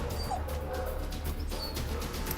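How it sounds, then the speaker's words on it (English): A rescued dog named Brutus is led in, letting out short whimpers and yips over steady low background rumble, the sounds fairly faint and scattered across the moment. "so I'm gonna bring in a dog"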